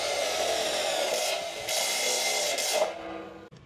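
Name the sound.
power drill driving self-drilling screw into light steel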